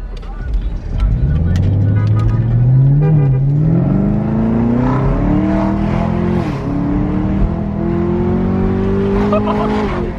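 Chevrolet Camaro ZL1 engine revving hard and accelerating, loud and close, its pitch climbing through the gears with a slight tire chirp, and no talk over it.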